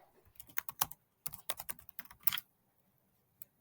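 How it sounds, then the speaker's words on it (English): Quick bursts of keystrokes on a computer keyboard, close and fairly crisp, running in uneven clusters for about two seconds, then a pause and one last lone tap. "We will type in our product and we'll add our picture."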